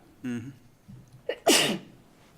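One sharp, loud sneeze rings out close by in a quiet meeting room, after a brief murmured voice and a small inhale.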